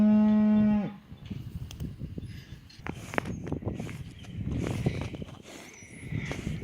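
A cow that has just calved gives one long, loud, close moo at the start, followed by quieter shuffling, rustling and hoof thuds around a barn with no talking.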